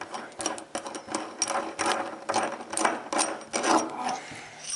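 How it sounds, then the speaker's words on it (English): Close-up metallic clicking and scraping as the charging knob is unscrewed from a Mosin Nagant rifle bolt while the firing pin is held compressed against a hard surface, with irregular ratchet-like turns and no talk. "compress the firing pin into a hard surface and to unscrew the charging knob like this"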